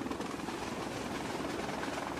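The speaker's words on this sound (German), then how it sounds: "Beim nächsten Anlauf gerät der Rotor des Hubschraubers an den Trichter." A helicopter rotor during an aerial refuelling attempt, a dense continuous chopping roar that stays loud and steady throughout, with no voices.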